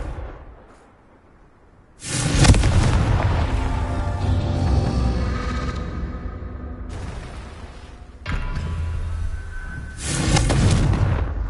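Confringo blasting spell explosions in a Harry Potter video game: two big fiery blasts, the first a long roaring burst fading over several seconds, the second a sharper boom followed by another surge of crackling fire.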